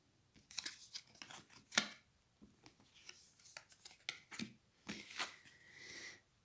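Tarot cards being drawn from a deck produce soft, close papery slides, flicks and rustles in irregular bursts, some sharper snaps among quieter shuffling.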